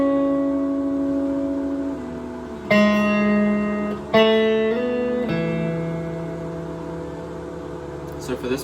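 Electric guitar picking out the chorus melody of a song, clean sustained single notes and slides ringing over a steady low drone, fairly close and moderately loud, no voices.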